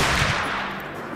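A single Jernberg rifle shot fired in theHunter: Call of the Wild, landing as one loud, broadband blast at the start that decays into a long, gradually fading rumble with no voices.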